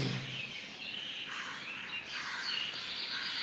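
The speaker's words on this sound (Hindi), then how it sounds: "चारों तरफ से आती हुई पक्षियों की आवाज" A dense chorus of birds chirping and singing from all around in a natural outdoor setting, continuous and fairly soft, with a faint hiss of insects beneath and no voices.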